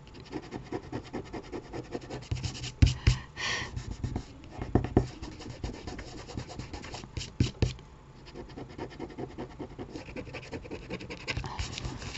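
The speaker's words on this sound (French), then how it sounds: "Je gratte avec le peu d'ongles qui me reste" Fingernails scratching and rubbing across a glued paper envelope in a craft album, a series of close, uneven scraping bursts with brief pauses, loud and dry.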